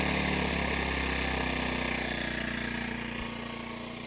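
A Predator 1400-watt inverter generator runs close by with a steady buzzing engine hum that gradually eases and quiets over a few seconds, no talking.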